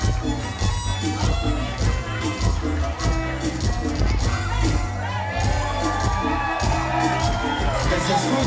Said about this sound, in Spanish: Que se escuche bonito el aplauso.